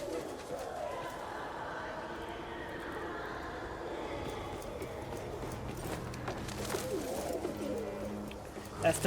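Pigeons cooing at a pigeon loft in the video game Phantom Blade Zero, soft low coos and bird sounds under game ambience, with a louder burst at the very end.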